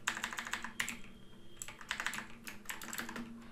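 Fingers type on a computer keyboard in quick, uneven bursts of light clicking with brief pauses between, close and quiet, with no voice over the keys.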